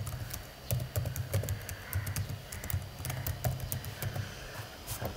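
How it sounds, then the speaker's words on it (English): Keys clatter on a computer keyboard as a search is typed out, a quick irregular run of close clicks and taps over a low background hum, with no one talking. "here you have to tap on the search box and type in Coinbase Wallet"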